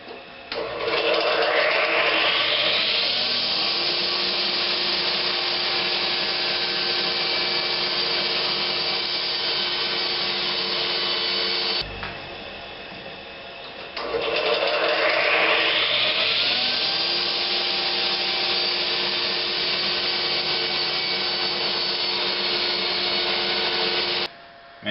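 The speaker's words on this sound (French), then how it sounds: "pendant que ma coupe se fait, je ne veux pas que mon morceau reste coincé entre la lame et le guide" A power saw blade spins up and rips through a wooden board along a guide while a cutting board is being made. Two long, loud, steady cuts are separated by a brief pause, with no talking.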